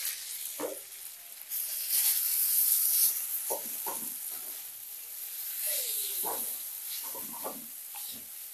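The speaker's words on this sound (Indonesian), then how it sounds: "Saya nyambil goreng mie." Instant noodles frying in hot oil, a steady bright sizzle with intermittent crackles and pops scattered throughout, close and moderately loud, no talk.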